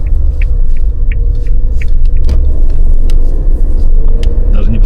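A 2025 Suzuki Jimny on the move gives a steady, close low rumble of engine and road noise, with a few faint clicks and knocks over it and no talking.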